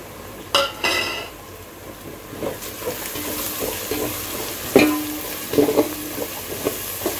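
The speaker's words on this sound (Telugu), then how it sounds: "అల్లం వెల్లిగడ్డ కూడా పచ్చి వాసన పోయేటట్టు మనం ఫ్రై చేసుకున్నాం" Ginger-garlic paste and whole garam masala with cinnamon and cloves fry in a pan, a low steady sizzle under occasional scraping stirs and a few sharp clinks of a spoon against metal.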